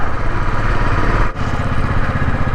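A motorcycle engine churns loudly and steadily as the bike slides through deep mud on a landslide-zone mountain road on the way to Kedarnath, with a brief dip in the drone midway and no talk.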